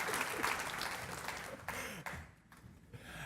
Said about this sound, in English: let's give Lauren a round of applause